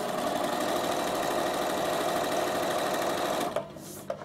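A Bernina sewing machine sews a fabric pocket in one steady, loud continuous run that stops abruptly near the end, followed by a couple of small clicks.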